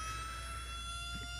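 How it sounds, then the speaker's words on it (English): A personal siren wails steadily, a faint tonal emergency-style siren held at an even pitch for a short moment without talk over it. "That's the actual siren ringing."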